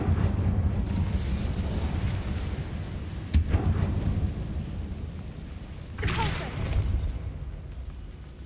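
Incendio fire spell cast in Hogwarts Legacy, a rumbling whoosh of flame with two sharp bursts over steady low combat noise.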